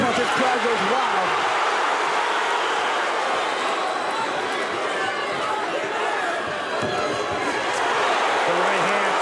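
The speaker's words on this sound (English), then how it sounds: "Every time Quentin Henry lands a punch, his crowd goes wild." A crowd roars and cheers steadily and loudly around a bare-knuckle boxing fight, a dense continuous wash of voices filling the venue with no breaks.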